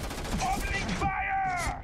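Gunfire in the space game Starfield, a burst of shots and a sustained whining energy weapon tone over noisy game ambience, with talk mixed in.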